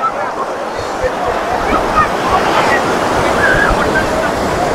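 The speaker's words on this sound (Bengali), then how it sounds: "এখানে অনেকেই এখন স্নান করছে আর জলের ঢেউ ধীরে ধীরে বাড়ছে" Sea waves rolling onto Old Digha beach where people are bathing, a continuous loud wash of surf with some wind rumble, close and steady.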